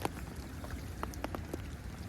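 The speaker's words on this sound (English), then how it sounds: "It's a bit wet and rainy" Rain falls at a lake in winter, a soft constant hiss with scattered faint drops tapping close by, no voices present.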